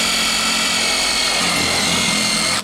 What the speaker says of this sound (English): Let's drill that wood out, and then we'll drill through